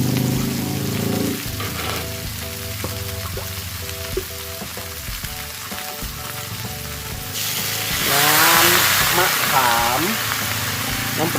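Mama instant noodles with fresh shrimp and dried shrimp stir-fried pad thai style in a pan, a steady sizzle with scraping stir strokes that swells louder near the end, with someone talking in Thai over it.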